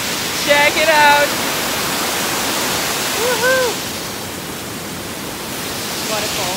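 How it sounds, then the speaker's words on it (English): Steady broadband roar of a waterfall in Sri Lanka fills the clip, with short excited voices shouting over it near the start and midway. "Woohoo! Waterfall."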